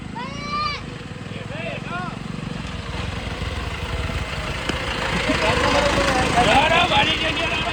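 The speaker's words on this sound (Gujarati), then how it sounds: "બરેક ની રાડ પડી જઈ છે ટ્રેક્ટરમાં" A tractor's brakes let out high squealing whines at the start and again near the end, over the steady idling rumble of its engine, with voices talking nearby.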